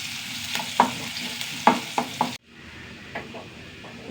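Onions frying in a pan, a steady hiss of sizzling oil with several sharp scraping stirs of a spoon, then the sizzle drops to a quieter, softer crackle for the rest.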